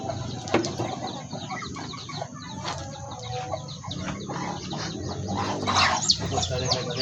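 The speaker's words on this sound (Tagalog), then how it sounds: "Ito na yung ating manok na bagong sisiw." A backyard mother hen clucks softly among her few-days-old chicks, whose thin high peeps scatter over a low rustling background at close range.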